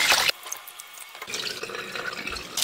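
Basmati rice being washed in water, with short splashing and trickling bursts at the start and again after a pause, soft and close, with no voices.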